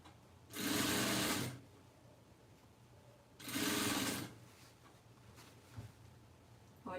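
Sewing machine stitching fabric into bias binding, running in two bursts of about a second each with a quiet pause between, close and even-paced.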